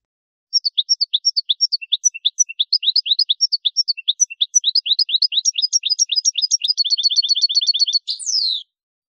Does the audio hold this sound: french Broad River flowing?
no